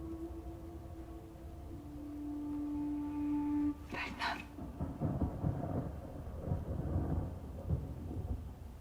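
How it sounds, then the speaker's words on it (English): Thunder crashes in a dramatic TV episode scene, a sudden burst followed by a low, rolling rumble that fills the rest of the moment over steady background sound. "The thunder crashed right then."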